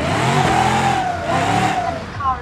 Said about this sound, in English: And the car is too loud, you can't hear me talking.